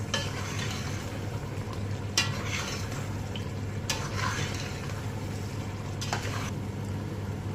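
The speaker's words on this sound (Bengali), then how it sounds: "দিয়ে ভালো করে নেড়ে চেড়ে মশলার সাথে মিশিয়ে দেবো।" Fried chicken pieces being stirred into masala in a pan for chicken curry, a continuous close sizzle with soft scraping strokes and a few sharp clacks of the spoon against the pan.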